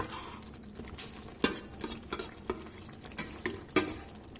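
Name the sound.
spoon stirring onion pepper chicken gravy in pan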